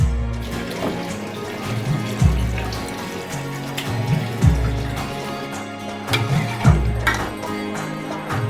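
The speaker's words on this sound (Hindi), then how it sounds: "इसमें साथ ही पानी डाल देंगे हम" Water poured into a cooking pot already holding tomatoes and onions, a steady splashing pour that swells and eases over about eight seconds, with tonal background sounds running underneath.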